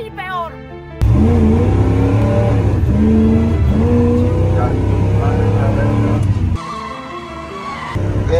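A car engine roars and revs loudly with rising and falling pitch sweeps and tire squeal, sustained for several seconds, then drops off briefly before picking up again; a voice is heard near the start.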